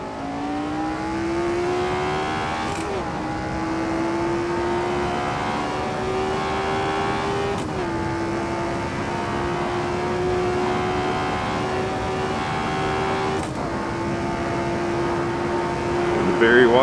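Grand Prix Legends race car in Assetto Corsa, its engine note climbing steadily through each gear with sharp drops at three shifts, loud and close, with a voice talking over it.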